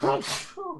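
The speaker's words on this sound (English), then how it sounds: "just sneezed" A single loud human sneeze, close and sharp, with a breathy burst, followed by a short spoken word; heard during an online strategy-game match commentary.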